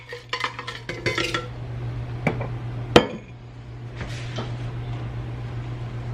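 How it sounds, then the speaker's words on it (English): Ice rattles and clinks into a glass pitcher, a quick cluster of bright clatters followed by a few scattered knocks and a single sharp clink over a low steady hum. "I'm going to pour a little bit of the ice in my glass pitcher as well"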